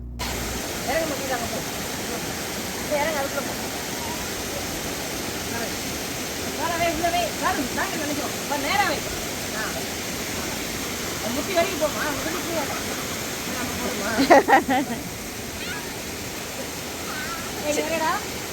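Waterfall at Uvas Canyon, a steady broadband rush of falling water that fills the whole scene, with people talking intermittently over it.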